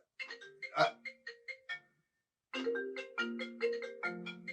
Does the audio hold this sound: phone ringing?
yes